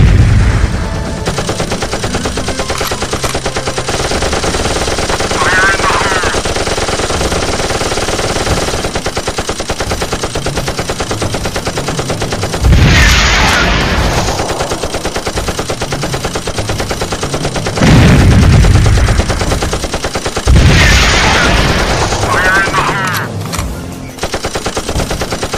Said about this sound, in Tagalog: So grabe, ang lakas ng putok.